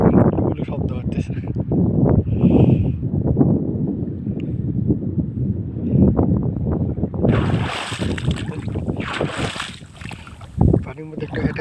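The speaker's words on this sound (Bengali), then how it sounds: "পানির ঢেউ দেখুন, গুলো শব্দ হচ্ছে।" Sea waves washing in under steady wind on an open shore, the surf's rush and roar mixing with gusty wind buffeting the microphone, with a person talking over much of it.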